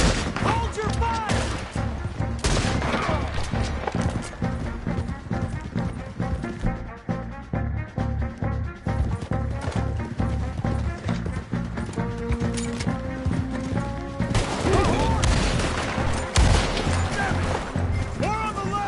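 Rapid gunfire in the Red Dead Redemption 2 campaign, dense volleys of close and distant shots crackling almost nonstop, with shouting voices and clattering hooves mixed in beneath the loud firefight.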